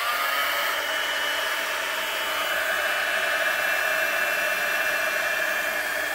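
A hair dryer blows steadily to dry a freshly glued junk journal page, a close, constant breathy whoosh with a slight shift in pitch partway through.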